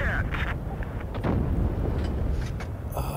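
Tank cannon fire in the mobile game World of Tanks Blitz, a tier 9 50TP in battle, with loud booming shots over rumbling engine and battle noise and some voice in the mix.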